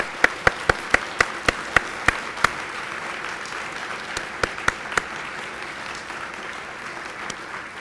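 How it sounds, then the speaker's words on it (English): Audience applause at a gala, steady broad clapping from a large crowd with a few loud close individual claps standing out near the start, continuing throughout. "Please join me in applauding him for that."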